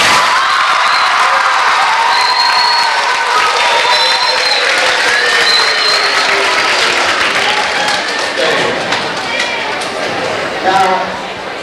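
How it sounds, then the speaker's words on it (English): Sixth-grade students in a school crowd applaud and cheer loudly and steadily for about eleven seconds, with whoops and shouts mixed into the dense clapping and a brief swell near the end. "Let's see what grade level has the best applause."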